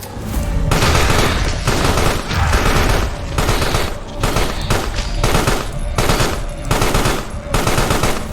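Gunfire in the video game Carrion as a robot is shot, loud sustained bursts of rapid automatic fire broken by brief pauses, close and dominant with no talk.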